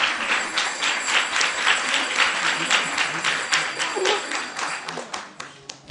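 Scattered audience applause at a Gita Jayanti celebration, a steady patter of many hands clapping at moderate distance for several seconds, thinning out slightly toward the end.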